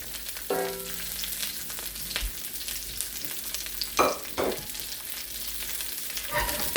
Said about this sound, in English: So you just want to keep on sauteing it.